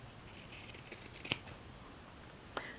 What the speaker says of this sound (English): Now I'm going to take my pinking shears and I'm going to cut in between that stitching